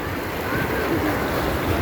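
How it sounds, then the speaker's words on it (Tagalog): Sea waves hit a small boat off Batangas, a loud, continuous wash of water and wind buffeting the microphone, with a swell of surge near the end. "hinahampas ka ng alon."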